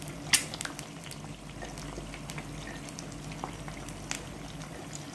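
Eggs frying in coconut oil in a pan give a low, steady sizzle with scattered sharp pops and crackles, close and fairly quiet.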